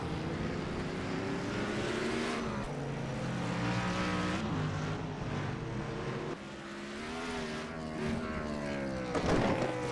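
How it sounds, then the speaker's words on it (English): Stock car engines rev in a sim racing game at Mid-Ohio, a continuous buzzing whine that rises and falls in pitch as the revs climb and drop, loud and close throughout. "you can hear that engine rev when those tires leave the ground"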